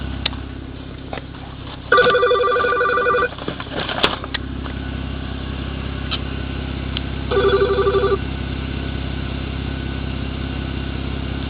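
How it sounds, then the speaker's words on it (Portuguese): A phone rings twice with electronic trilling bursts while a 2008 BMW 325i idles nearby, the first ring longer and followed by a brief knock, the engine humming steadily underneath. "Deixa eu atender o telefone aqui."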